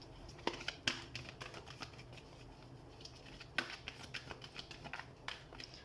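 Tarot cards are handled and shuffled during a reading, giving faint, scattered papery flicks and taps at a low level with no talk over them.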